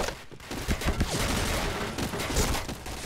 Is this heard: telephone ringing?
no